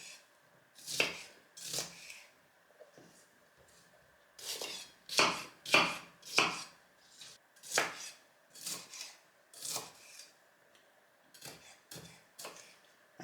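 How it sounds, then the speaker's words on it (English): A knife chopping bell peppers on a cutting board, a steady run of crisp thuds in quick bursts with short pauses, close and clear with no talking. "Make some slices, and then just cut it into small little pieces."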